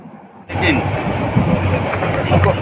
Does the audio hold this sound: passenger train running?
yes